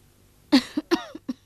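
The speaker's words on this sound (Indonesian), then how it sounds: "Wah, ibu batuk lagi." A mother coughs in a children's story: a sharp, close cough followed by three or four shorter, raspy coughs in a quick, uneven burst, with silence before.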